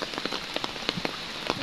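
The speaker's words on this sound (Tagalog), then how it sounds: "Ulan talaga." Heavy rain pours down steadily during a trip home on a holiday, with close, irregular drops pattering and tapping on a nearby surface over a continuous wash of rainfall.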